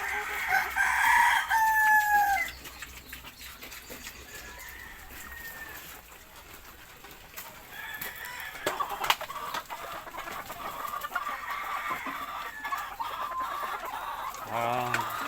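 Backyard chickens cluck and squawk in a farm pen, with a rooster crowing loudly at the start and scattered hen calls continuing over a quiet rustling background.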